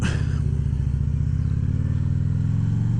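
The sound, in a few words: 2016 Harley-Davidson Street Glide Special motorcycle engine riding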